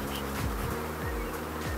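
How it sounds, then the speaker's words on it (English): A close, steady drone of honey bees buzzing around an open hive during a colony split, a dense continuous hum with a few brief louder passes of individual bees, no talking. "Just cool these bees down a little bit."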